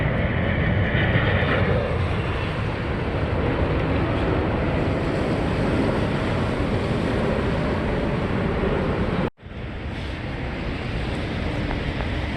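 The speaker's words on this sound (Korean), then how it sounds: "자 비행기 내려오시고" A continuous low roar of an airplane descending nearby to land at Jeju Airport by the sea, broad and steady, with a brief cut near the end, then the rumble resumes.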